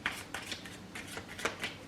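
Soft, close rustling and flicking of a tarot deck as a card is pulled, a run of quick light papery strokes with no talk.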